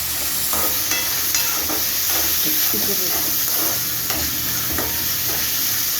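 Bitter gourd pieces sizzle and fry in hot oil in a tempering, a steady loud hiss with intermittent scraping stirs of a spoon in the pan throughout.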